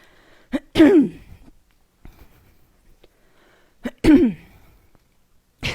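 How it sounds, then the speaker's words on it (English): Two throat clearings come about three seconds apart, each a rough, guttural rasp close to the mic, with quiet room noise in between. "See, I'm already having to clear my throat."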